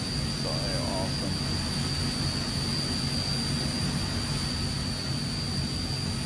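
Transall C160 turboprop cargo aircraft engine in Microsoft Flight Simulator, a loud steady drone with a deep rumble and high whining tones, continuous and unchanging throughout.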